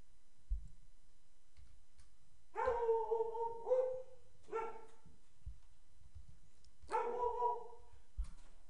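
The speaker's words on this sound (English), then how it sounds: "that's my dog" A dog barks in a short excited burst of three loud, close barks, a pause, then one or two more, with faint low thumps between and no talking.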